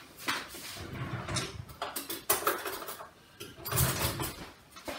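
A fork scrapes and clinks against a bowl while stirring brown sugar and cinnamon into a cinnamon roll filling, giving several quiet, irregular bursts of tapping and scraping without talk.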